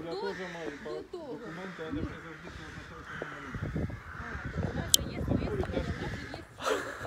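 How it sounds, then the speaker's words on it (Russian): A flock of crows caws loudly and repeatedly outdoors in the town of Uzyn, Ukraine, their harsh calls rising over a person's steady talking nearby. "вороны разбушевались"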